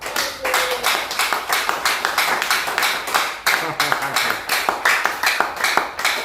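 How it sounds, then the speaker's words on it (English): Rhythmic group clapping from an audience at a religious teaching gathering, sharp evenly spaced claps repeating steadily throughout, close and bright with a voice faintly beneath. "Clap for the Most High."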